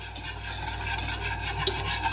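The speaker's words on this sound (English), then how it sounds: "I'm just gonna add in a few spoonfuls at a time and just keep whisking" A whisk works powdered sugar into a chocolate glaze in a bowl, producing a continuous close rasping, swishing stir with a low steady hum beneath, and no speech.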